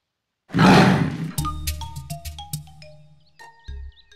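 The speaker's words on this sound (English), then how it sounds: "It sounded like a tiger" A tiger in a cartoon roars once, loud and close, a long rough swell that fades into a string of bright ringing chimes and tones.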